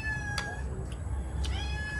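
A cat meows a few short times nearby, faint over a steady background hum during a backyard Filipino pork barbecue.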